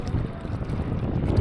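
Sailboat on the water near Cairo running with the wind behind it, a steady rushing wash of wind and water noise with buffeting on the microphone, continuous and close.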